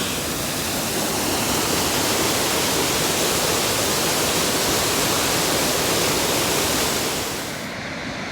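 Abrams Falls waterfall and its creek heard from within the creek in August, a loud, steady broadband rush of falling and flowing water that fills the whole stretch alone, easing slightly at the very end.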